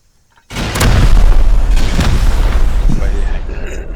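A rocket blast in the survival game Rust, a loud booming explosion that erupts suddenly and rumbles on for several seconds with a long crackling tail.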